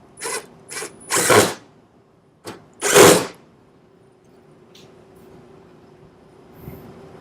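A few short bursts of a screwdriver driving screws into a wooden solitary bee house, close and clattering, with quiet pauses between and faint handling after.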